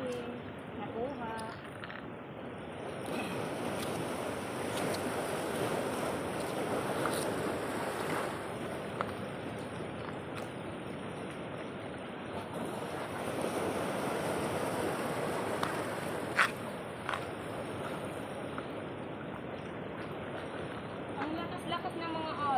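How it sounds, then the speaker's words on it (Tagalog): Strong ocean waves at Napla Islet wash and surge continuously around the shore in a broad, rushing wash, with wind buffeting the microphone and a person speaking occasionally over the surf. "Lakas ng mga alon. Ang lalaki pa naman."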